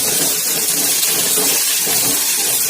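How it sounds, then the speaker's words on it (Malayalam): Green chillies and curry leaves hiss and sizzle steadily in a hot pan for a lentil and spinach curry, a loud, continuous frying crackle with no pauses. "പിന്നെ വേപ്പിൻ്റെ ഇലയും നന്നായിട്ട് നമുക്ക് വഴറ്റിയെടുക്കാം."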